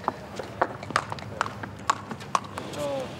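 Horse hooves clip-clop at an international horse beauty contest at Al-Shakab, a stallion being led in a steady walking rhythm of sharp, close knocks while people talk over it.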